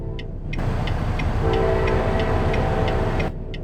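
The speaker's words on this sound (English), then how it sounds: "Okay, I did hear a train." A train rolls past in American Truck Simulator, a steady rumble with an evenly spaced clicking of wheels over rail joints, fairly close and continuous before cutting off.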